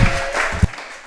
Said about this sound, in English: Can you please join me in giving one more round of applause for Johnny Neitsch?